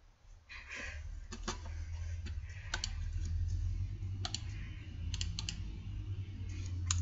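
Computer mouse clicks during a game of Shakes and Fidget: sharp, quiet, irregular clicks, some in quick pairs, over a low steady hum in a quiet room.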